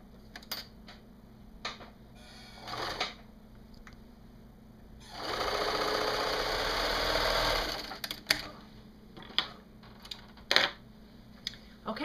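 A sewing machine stitches the outer fabric panels of a wraparound skirt together in one steady, mid-level burst of about three seconds, framed by quieter clicks and handling noises.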